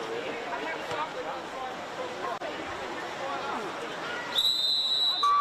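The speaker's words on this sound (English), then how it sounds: "We go, the whistle blows." A referee's whistle blows at a water polo match, the gold medal game of a Queensland state titles event, sounding sharp and sustained near the end over constant crowd babble and pool noise.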